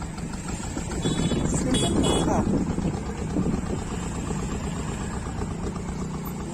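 A river ferry's engine runs steadily as the vessel pulls away from the ghat with bikes and people aboard, a continuous low droning hum throughout, with a brief louder swell early on.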